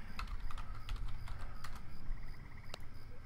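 Rapid, close keystrokes on a computer keyboard clatter in uneven bursts over a low background hum, with a faint steady tone running through the later part.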